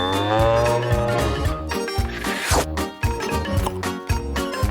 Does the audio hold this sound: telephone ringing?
no